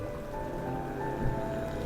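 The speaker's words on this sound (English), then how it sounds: "It's wet again, and I'm cold again. It's just rain." Steady rain falls in the video game Night in the Woods, an even, continuous hiss of drops on surfaces that stays constant and fairly loud throughout with no voices.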